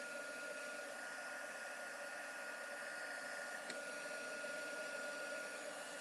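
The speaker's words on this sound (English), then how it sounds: "we're going to let our heat tool heat up just a little bit" A heat tool blows a steady, even rush of hot air over embossing powder on a handmade card, a constant hiss that holds throughout with a brief click partway through.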